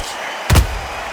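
A single heavy punch lands in the boxing video game Undisputed, one short dull thud with a slap-like edge that stands out briefly over steady crowd-like background noise.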